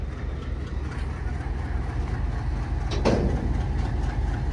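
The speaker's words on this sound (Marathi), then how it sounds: "तर रेल्वे चलत आहे सध्या मित्रांनो," A train hauling a load of rails rolls toward Beed, giving a steady low rumble with faint clickety-clack that runs throughout, plus a brief sharp burst partway through.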